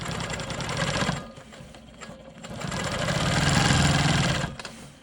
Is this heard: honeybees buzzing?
no